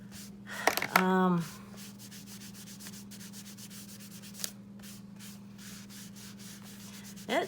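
A wet wipe rubs over Gelatos colour on a journal page, giving soft, steady scrubbing close by, with a brief tonal sound near the start and a constant low hum beneath.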